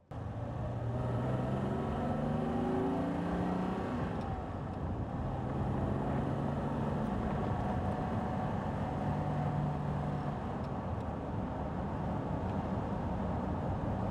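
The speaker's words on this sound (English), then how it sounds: "It's a delight to steer down a twisty little B road like this." A 1960s Jaguar S-Type 3.4 with manual gearbox driving down a twisty B road, its engine a steady, loud in-cabin drone with rising and falling revs as it pulls through bends, alone without talk.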